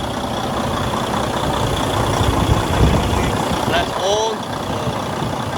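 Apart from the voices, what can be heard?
Detroit DD15 diesel engine idling after fuel pump install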